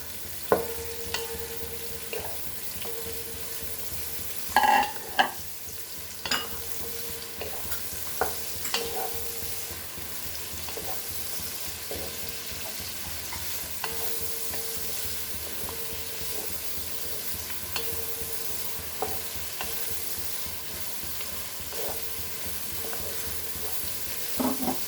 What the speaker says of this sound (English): And now the onions are nicely fried.